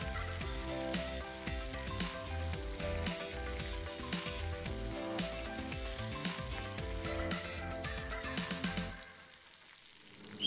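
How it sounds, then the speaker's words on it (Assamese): Chopped pieces of a large bhakua fish head fry in oil for a snake gourd curry, making a dense, steady sizzle and spitting crackle up close that fades slightly near the end. "মাছৰ মূৰখিনি ভজা হৈ গৈছে।"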